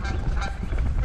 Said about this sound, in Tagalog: Nalaban yung bibi eh.